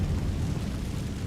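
A Confringo fire spell blasts in Hogwarts Legacy, a dense, rumbling roar of low boom and crackle that fills the whole moment, loud and close with no voices.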